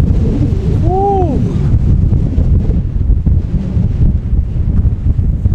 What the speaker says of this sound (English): It is freaking windy here.